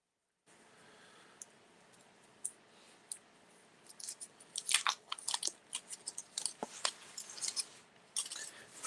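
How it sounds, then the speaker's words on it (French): Someone unwraps a glass from its packaging: faint crinkling, papery rustles and small clicks come in irregular bursts that grow busier toward the end, close and quiet, with no talking. "Je vais déballer le verre."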